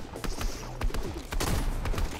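Shotgun blasts in a Fortnite match, several loud close bangs in quick succession amid game noise, with no speech over them.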